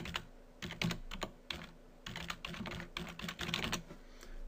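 Rapid typing on a computer keyboard while entering a password and vCenter and SSO hostnames during a VMware vSphere Data Protection setup, bursts of close, clicky keystrokes with short pauses between them.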